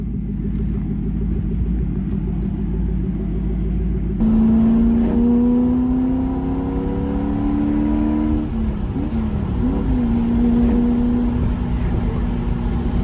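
A Porsche 928 with an aftermarket exhaust rumbles low and steady, then the engine revs up into a loud, throaty, rising growl that dips and climbs again.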